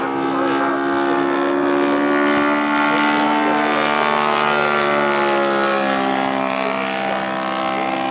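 A 1:3.8 scale Fokker D.VII model airplane's engine drones steadily with layered harmonics as it performs a touch-and-go, staying loud and close throughout with no talking.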